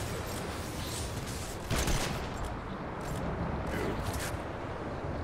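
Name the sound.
gunfire in the video game Fortnite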